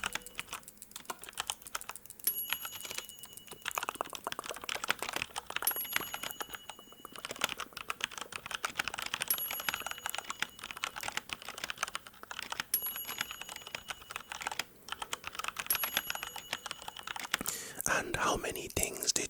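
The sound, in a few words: ding tones in a hearing test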